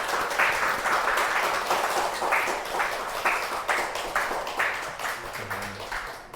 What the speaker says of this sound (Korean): 우리 한번 박수로 환영해 주시면 좋겠습니다.